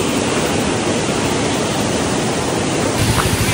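A mountain stream on the trail to Kalu Waterfall rushes in a dense, continuous roar of water, loud and close, steady throughout with nothing else standing out.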